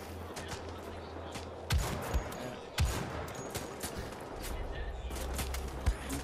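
Bolt-action rifle gunfire in the video game Wolfenstein: The Old Blood cracks out as a few sharp, spaced shots over a low hum of game ambience and other distant gunfire, fairly quiet overall.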